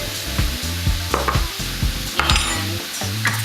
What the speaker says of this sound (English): now I'm gonna add about half a tablespoon or teaspoon of minced garlic